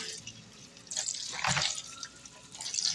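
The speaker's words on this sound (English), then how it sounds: "Rinsing my salad or my lettuce for my Italian dish." Lettuce being rinsed under a running kitchen tap, with close splashing and trickling water that swells in bursts as the leaves are moved through the stream.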